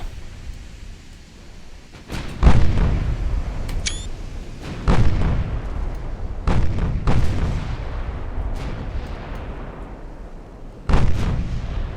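Heavy naval guns boom in a battleship engagement in the game Ultimate Admiral Dreadnoughts, several loud separate blasts spaced a few seconds apart, each trailing into a long rumbling decay.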